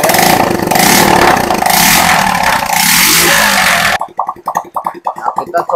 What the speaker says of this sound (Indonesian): Kita coba geber.